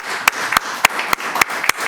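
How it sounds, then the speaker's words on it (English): Sparse, distinct claps at a spine study group presentation, six sharp hand claps in a fairly even rhythm over a quiet room, sounding like a small handful of people rather than a full audience. "Let me give a round of applause to Ted"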